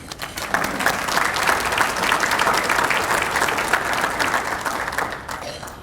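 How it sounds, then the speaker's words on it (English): A room full of people at a chamber of commerce morning event claps steadily for several seconds, dense and even, before the applause quickly tapers off. "Can we please give them a round of applause this morning?"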